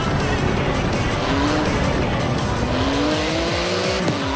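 A 3.8-litre twin-turbo flat-six sports car in Forza Horizon 4 on the streets of Edinburgh roars loud and close, its engine note climbing through the revs while the tyres squeal and skid under it.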